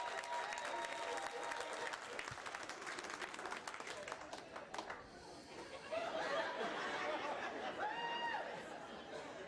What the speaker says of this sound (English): Married folks, clap your hands, married folks.